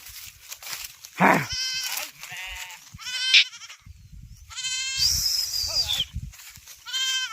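Several sheep bleat close by in a village field in repeated wavering calls, one after another, with quiet gaps and rustling between.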